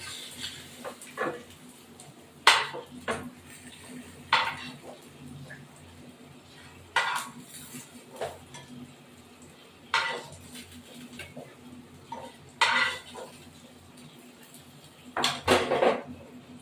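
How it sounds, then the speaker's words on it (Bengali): Metal utensils clink and scrape against a cooking pan as cooked fish is lifted out, sharp irregular clatters spaced every second or two over a low kitchen hum. "এই মাছটা আমার হয়ে গেছে মাছটা তুলে ফেলবো"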